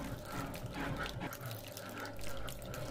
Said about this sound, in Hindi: इसमें हम डालेंगे पानी में मिला हुआ विनेगर, तो इसे हम धीरे धीरे करके चलाएंगे और धीरे धीरे डालते रहेंगे विनेगर वाला पानी।